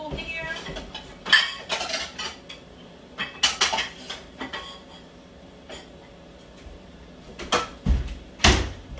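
Ceramic bowl and plates clatter and clink in bursts as they are set down and shuffled in a kitchen, with cutlery rattling and a cupboard-like knock near the end.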